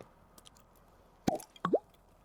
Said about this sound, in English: Break the seal on her and give it an old pop.